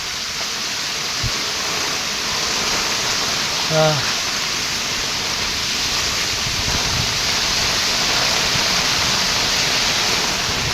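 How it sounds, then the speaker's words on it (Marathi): Heavy night rain with wind hisses in a continuous, even wash of noise. A short voice-like sound rises briefly near the middle. "भयानक पाऊस पडतोय,"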